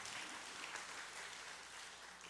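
Church congregation clapping steadily for a welcomed member during a Korean church service, a soft, even patter of many hands heard from a distance throughout.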